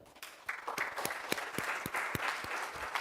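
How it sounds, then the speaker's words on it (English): A small group of yoga participants claps for themselves indoors, a brief burst of scattered, fairly quiet hand claps lasting a few seconds with no talking. "Clap for yourself."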